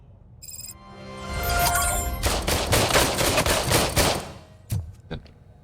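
Rapid bursts of gunfire in Robocop: Rogue City, a dense volley of shots building into sustained loud fire for a few seconds, then tapering into two or three sharp isolated cracks.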